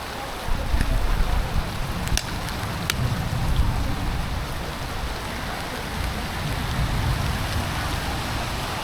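Heavy rain pours steadily onto a wedding pandal set up for a haldi ceremony, a dense continuous hiss and patter with a few sharper drip impacts, fairly loud and close with no talking.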